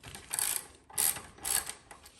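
Ratchet wrench loosening the lower caliper spacer bolt on a Ducati Streetfighter V4 motorcycle, heard as three close bursts of rapid clicking, each followed by a short pause.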